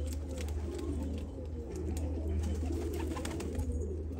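High-flying Tipped Tumbler pigeons coo softly and continuously at close range, low murmuring calls overlapping against a steady background hum.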